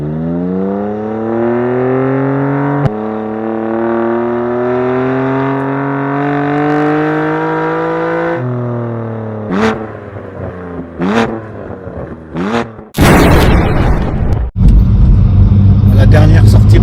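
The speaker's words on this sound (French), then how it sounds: "La dernière sortie pour la ligne d'échappement d'origine, totalement d'origine sur cette BMW M4." BMW M4 on its fully original stock exhaust in a workshop, engine rising through long revs with harmonic tones climbing, then sharp blips and a loud roaring burst near the end, heard close and loud.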